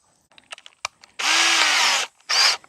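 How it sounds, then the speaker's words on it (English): A cordless power drill driving 1.5-inch screws into an upcycled wooden birdhouse, heard as a loud sustained whir of nearly a second and then a second shorter burst, after a few small clicks and knocks. "Now I'm not going to be drilling, I am going to be screwing."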